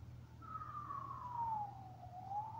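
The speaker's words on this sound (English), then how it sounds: "Fire truck." A fire truck siren wails loud and close in a single long, slowly falling sweep that rises again at the end, heard alone over a low steady engine rumble.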